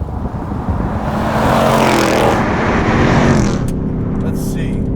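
Engine of a 710 hp supercharged 2019 Roush Stage 3 Mustang driven in sport plus mode, a loud close rumble that swells as it accelerates, with talking over it.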